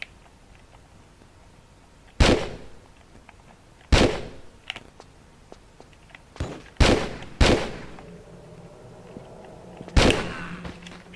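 Gunshots ring out in Tomb Raider 4, six sharp, loud reports spaced irregularly over about eleven seconds, each with a short decaying tail, no voices over them.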